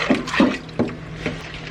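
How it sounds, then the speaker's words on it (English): Water splashes into a pot of cooked beans being made into refried beans in a homestead kitchen, a few short close pours and slops over about two seconds. "I'm going to add some water."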